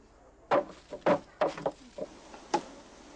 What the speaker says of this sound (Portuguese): Precisa cavar com formão de pedra para ajustar a lâmina a um bom ângulo para a batida.